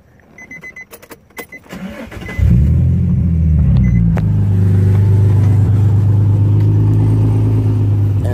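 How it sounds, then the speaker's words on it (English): A Nissan 350Z after a Seafoam cleaning cranks and fires at about two seconds, following a few light clicks and handling noises. It then settles into a loud, steady, close idle with a deep rumble that runs to the end. "So now we're gonna be turning on the car."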